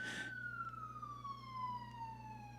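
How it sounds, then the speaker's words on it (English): A siren sound effect wails alone: a single long tone sliding slowly downward after a short burst of noise at the start, loud and clear with no voices. "If you heard the siren, it's like, that's not a true little sound effect."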